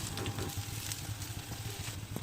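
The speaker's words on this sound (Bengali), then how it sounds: "তেলটা একটু গরম হয়ে গেলে আলুর পুর ভরা এই ব্রেডগুলোকে তেলের মধ্যে দিয়ে দেব।" Potato-stuffed bread frying in hot white oil in a frying pan gives a soft, steady sizzle with fine crackling pops, quiet and close, with no talking.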